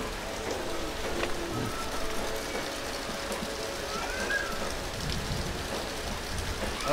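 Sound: heavy rain

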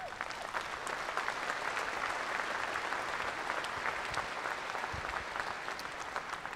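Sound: applause at a Holstein cow show

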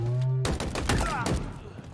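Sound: machine gun fire in Halo Infinite video game

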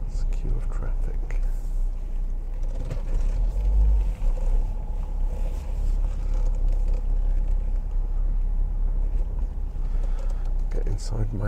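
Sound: car driving in a queue of traffic

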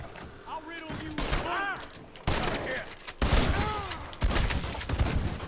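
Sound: gunfire in the video game Red Dead Redemption 2

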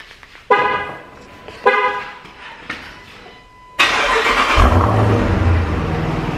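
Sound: Trackhawk car engine starting

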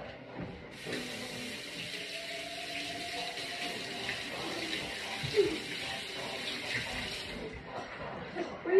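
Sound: water running from tap, washing hands

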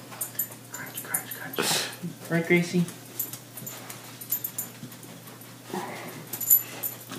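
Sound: dog whimpering and panting

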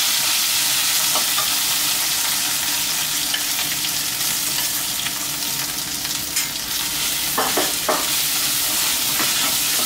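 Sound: stir-frying curry paste with pork ribs in a pan

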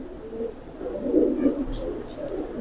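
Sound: Giribaz pigeons cooing

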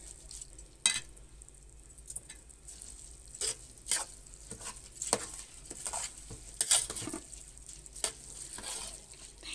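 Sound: rice being stirred and sautéed in a pot for stuffed cabbage

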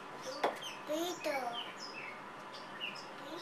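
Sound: birds chirping outdoors

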